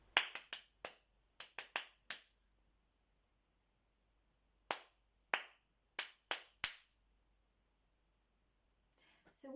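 Clapped rhythm patterns in a classroom musical call-and-response game: two bursts of sharp, close hand claps in quick groupings, the first dense and fast, the second sparser, separated by a silent gap, with faint rustling at the end.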